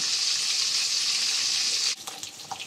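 Fish frying in a hot, oily pan gives a close, continuous sizzle that suddenly drops away near the end, leaving a few quieter scattered kitchen noises.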